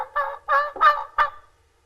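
A modified bat wing turkey call blown to imitate jake or gobbler yelps: four raspy, nasal yelps in a quick uneven series, loud and close, with no talking.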